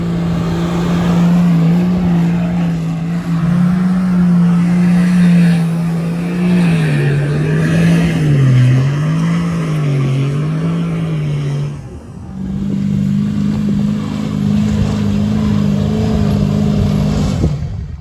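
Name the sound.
4WD vehicle engine revving in second gear on desert dunes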